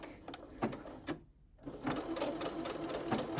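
A sewing machine blind-stitching the hem of a pair of pants, running in short close bursts with a brief pause before settling into a steady whirring hum of stitching.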